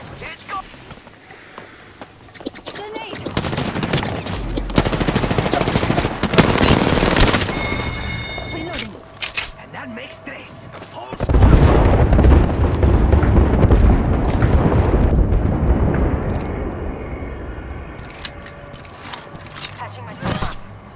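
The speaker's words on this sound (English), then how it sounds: "Tossing a grenade. Get shot at." Apex Legends game combat brings repeated bursts of automatic gunfire and a booming grenade blast, loud and close, with a player talking over the action.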